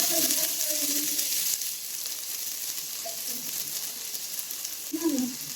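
Sliced onions hit hot ghee in a pan for Dindigul Thalappakatti-style biryani, a steady loud hiss of frying that continues close up, with a few soft stirring sounds.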